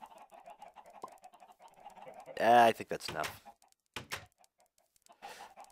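Minecraft chickens cluck in short bursts, faint and close, with a few brief clucks coming between quiet stretches while a person speaks briefly.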